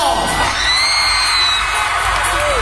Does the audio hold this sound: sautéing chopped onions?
no